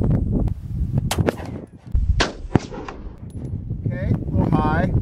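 A TZ75 pistol fired during outdoor target shooting at cans: several sharp, loud, close gunshots spaced a second or so apart, with a brief chirping sound near the end.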